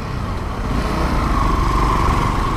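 A Honda XRE Sahara 300 motorcycle engine drones steadily while riding, loud and close, its pitch gently rising with light wind rush mixed in.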